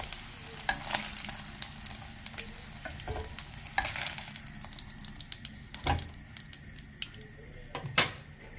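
A hot dog filling sizzles in a frying pan as a utensil stirs and scrapes it, with a soft steady fry under intermittent clatters and a sharp knock near the end.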